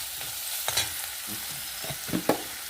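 Tomatoes frying in a pan while being stirred, a soft steady sizzle broken by a few short scraping strokes of the spoon, close and alone.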